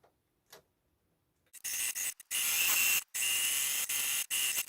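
A sewing machine stitches across the bottom of a bag lining in bursts, a fast whirring buzz that starts and stops several times after a quiet lead-in with a couple of small clicks.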